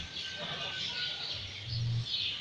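Migratory swallows call at a stadium in Siuna, Nicaragua, in summer: a dense, continuous chorus of high chirps and twitters from many birds, loud and steady, with low rumbling background noise beneath.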